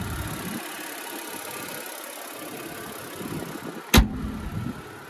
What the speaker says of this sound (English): there's that 285 horsepower V6